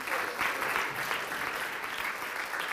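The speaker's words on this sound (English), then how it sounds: "So a big round of applause for all of you who correctly guessed Team Blue." An audience at a public lecture gives a round of applause for those who guessed the right team; steady, moderately distant clapping with no gaps, a little faint.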